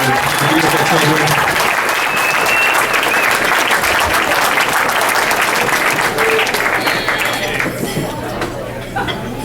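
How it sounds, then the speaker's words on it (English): Applause from wedding guests for the bride's and groom's parents, a steady dense clatter of many hands that continues for several seconds, with chatter and voices mixed into it, before it thins out toward the end. "Can everyone give them a round of applause for the beautiful children?"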